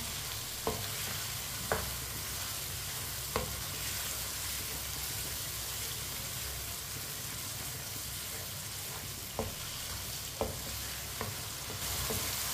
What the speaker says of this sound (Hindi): लाजम इसे 2 मिनट के लिए भूनना है ताकि टिंडों का कच्चापन खत्म हो जाए